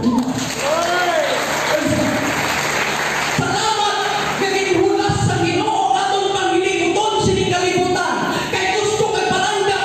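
Congregation clapping during a Sunday church service, a dense, steady patter of applause filling the room while a preacher keeps talking loudly over it.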